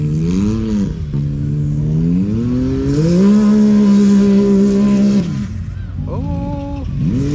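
A Can-Am X3 turbo side-by-side races a barrel course at the Avoca fair, its engine loudly revving up and down through rising and falling pitch sweeps, close by, with brief talk over it.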